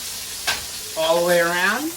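Short ribs searing in a pan over high heat, a steady sizzle running throughout, briefly interrupted by a man's speech.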